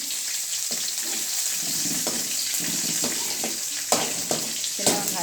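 Small onions sautéing with curry leaves in a pan for moong dal sambar, a steady hiss of frying under several soft scraping stirs, close and moderate in level.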